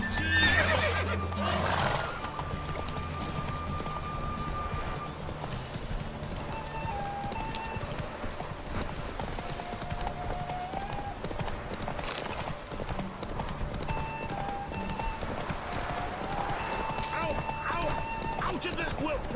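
Roach, a horse in The Witcher 3 video game, neighs at the start, then hooves clip-clop in a steady galloping rhythm close by, under game music and brief talk.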